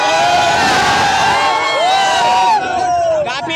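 A dense crowd of young people at a New Year picnic, loud and close, with overlapping voices, shouts and cheering forming a continuous babble that thins slightly near the end.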